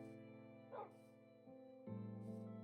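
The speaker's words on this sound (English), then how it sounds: "Let's tame our dog." A tamed dog in Minecraft gives a few short, close yips and whines, separated by brief gaps over a low, steady background hum.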